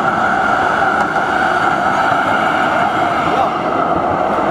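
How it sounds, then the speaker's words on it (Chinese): A free sightseeing tram pulls in along its track, heard as a loud, steady mechanical drone with a sustained whining tone that holds evenly for several seconds. "有轨来了"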